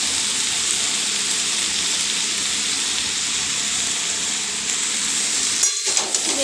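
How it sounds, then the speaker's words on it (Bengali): Vegetables and leafy greens frying in a hot pan give a steady, close sizzle with a soft hiss of steam throughout, ending in a few brief clatters of stirring near the end. "একটু নাড়াচাড়া করব"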